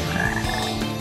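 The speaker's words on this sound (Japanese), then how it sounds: "ねえ、カエルの声が聞こえない？" Frog croaks from the Frog Forest stage of the video game Sonic Heroes, a short burst of throaty ribbed calls layered over game music and effects.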